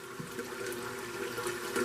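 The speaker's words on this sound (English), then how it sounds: "I'm filling it with hot water." Hot water gushes from a tap into a water bath canner, a steady rushing pour close by for a couple of seconds, with no talking.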